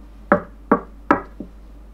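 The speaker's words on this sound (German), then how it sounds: "sah sich um und klopfte an die Tür" Someone knocks on a door in a tabletop storytelling theatre, three crisp evenly spaced raps and a fainter fourth tap, near and alone.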